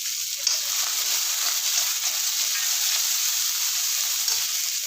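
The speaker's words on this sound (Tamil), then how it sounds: "கடுகு பச்சை மிளகாய் போட்டுன்றேன்." Mustard seeds and green chilies sizzle in hot oil with a steady, close crackling hiss, sharp pops scattered throughout and no voices.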